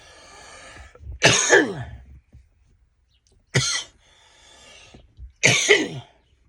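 Three separate bursts of harsh, raspy coughing after a hit of cannabis from a pipe, each cough fit close and loud, separated by quiet gaps with faint background hiss.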